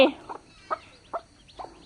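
Chickens cluck close by in four short, evenly spaced bursts against an otherwise quiet background.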